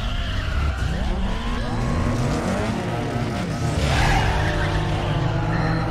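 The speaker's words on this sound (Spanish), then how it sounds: "vamos a hacer derrape, otro derrape más" Tires squealing as a car drifts in Need for Speed Underground 2, sweeping skid tones rising and falling over a steady engine roar, loud and continuous throughout.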